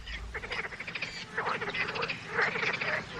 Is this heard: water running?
no